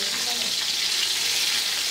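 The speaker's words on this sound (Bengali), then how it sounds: "আস্তে আস্তে মাছ ভাজি হয়ে যাচ্ছে।" Poa fish frying gently in oil on a village clay stove, a continuous even sizzle, close and steady with no talk.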